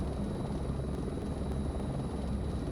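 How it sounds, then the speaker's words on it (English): Low-flying helicopter at about 200 feet over houses, a steady loud rotor drone with a constant buzzing whine from the tail rotor throughout. "Turns out the majority of the volume of a helicopter is the tail rotor."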